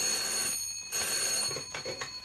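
An old office telephone bell rings loud and continuous in short bursts, with brief gaps between rings, close by, with no talking.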